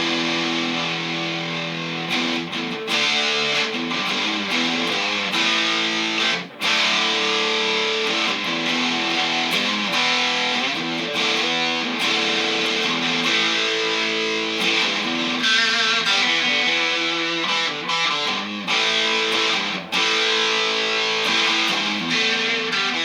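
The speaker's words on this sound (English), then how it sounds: "it's the fuzz is what you're hearing for the overdrive or distortion tone" A custom-built electric guitar plays riffs through a Mesa Boogie amp with fuzz distortion, a thick, buzzing overdriven tone with sustained chords and brief pauses, loud and continuous throughout.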